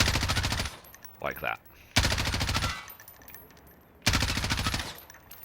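M4 rifle fired in Warzone in three full-auto bursts, each about a second long, loud and close, with a short spoken comment in the gap between the first and second bursts.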